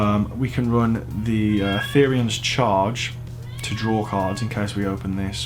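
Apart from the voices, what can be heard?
cat meowing in the background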